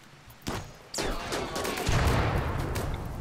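Gunfire at a centipede in the video game RimWorld, a few sharp shots followed by a sustained rattling fusillade, fairly quiet overall with no talk.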